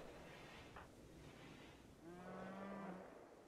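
A cow in the video game RimWorld gives a drawn-out, low moo that swells near the end, sounding fairly quiet over a soft background hum.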